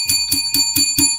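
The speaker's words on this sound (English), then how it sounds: "Let's ring the bell for that." A small bell rings five times in a quick, even series, each strike bright and close, with no talking.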